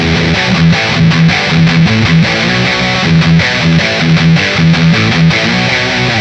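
An electric guitar runs through a heavily distorted high-gain amp simulator plugin setting called Insane, playing a loud, dense, chugging riff with sustained saturated chords and no talking.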